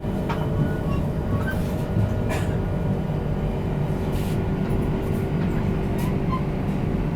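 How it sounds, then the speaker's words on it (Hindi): The Tejas Rajdhani Express to Mumbai pulls out of New Delhi railway station with a steady, continuous low rumble of wheels and carriages, heard close and unbroken for the whole stretch. "अपनी मुंबई तेजस राजधानी एक्सप्रेस निकल चुकी है न्यू दिल्ली रेलवे स्टेशन से"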